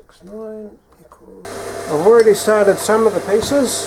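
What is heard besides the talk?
bandsaw running in the background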